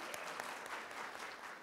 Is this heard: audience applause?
yes